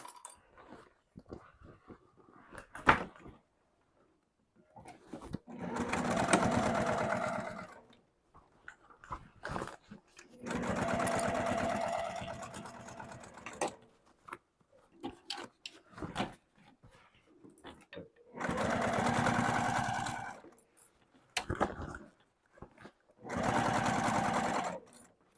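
A home sewing machine stitches a handmade backpack in several bursts of steady whirring lasting a few seconds each. Quiet pauses between them carry faint handling noises.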